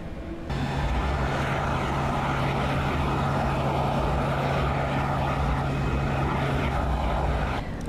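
Jet engine number three of a Boeing 747SP spooling up on start inside the cockpit, a steady loud broadband roar with a constant low hum, sustained and close throughout.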